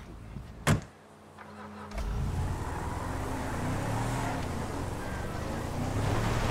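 Car engine from the video game GTA V drones steadily after a door-like thump, a continuous mid-level motor and road rumble filling most of the span.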